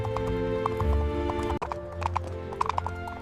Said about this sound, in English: He rode his horse straight up the middle of the shining golden road.